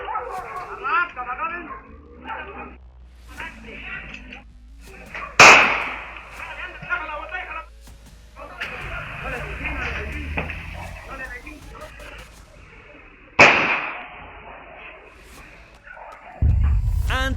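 Two sharp, loud gunshots picked up by outdoor security camera audio, the second about eight seconds after the first, with voices and background noise around them.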